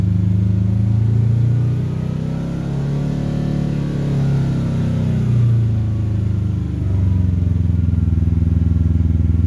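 A Kawasaki Teryx KRX 1000 side-by-side engine re-engages after a stop on a steep downhill trail, giving a loud, close, continuous low rumble with gentle rises and falls in revs.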